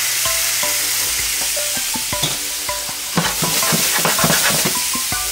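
Mushrooms hit a hot pan and start sizzling steadily, with repeated close utensil clinks and scrapes as they are stirred, loud and near with no talking.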